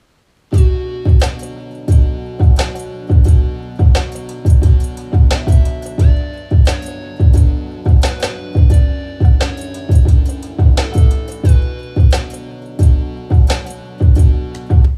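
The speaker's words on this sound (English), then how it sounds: "So what I did was I added a filter to it using EQ8" A sampled beat loop made in Ableton, filtered with the EQ8 equalizer, repeats in steady punchy pulses with booming low hits and tonal sample layers over a continuous groove, loud and upfront with no talking.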